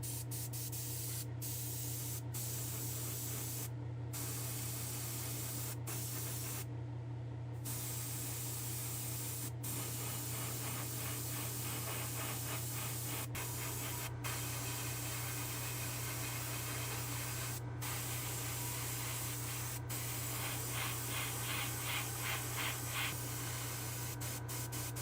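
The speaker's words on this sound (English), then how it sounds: "I plan to spray our orange" A steady, continuous hiss of orange aerosol spray paint on a vintage Matchbox toy van runs throughout, with a low hum beneath and a few brief breaks.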